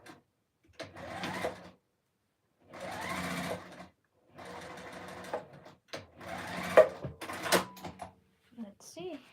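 Sewing machine stitching a quilt binding in several short bursts separated by pauses, close and fairly quiet, with small clicks and handling noises between runs.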